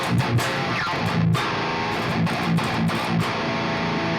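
Heavily distorted electric guitar through a David Maxim Micic amp plugin at default settings, chugging palm-muted riffs with sharp chord stabs and gated stops, dense and loud with no talk.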